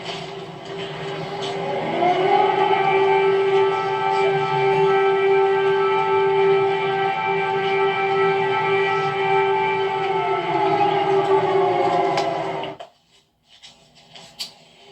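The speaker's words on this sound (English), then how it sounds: "Note the air raid sirens in the background." Air raid sirens in Kyiv give a long wail that holds a steady pitch for about twelve seconds, loud and distant-sounding, then cuts off abruptly into near silence.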